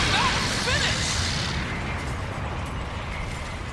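A big tokusatsu-style explosion effect from Kamen Rider Gavv erupts loudly with a broad roaring burst, then settles into a long rumbling decay.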